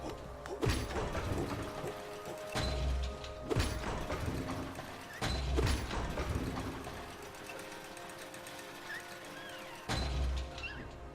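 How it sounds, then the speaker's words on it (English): Bats in the Hollow Knight video game produce fluttering, clicking squeaks amid game ambience, with recurring thumping impacts and scattered high chirps spread across the stretch at moderate level, without talk. "Right, that's the sound of them bats."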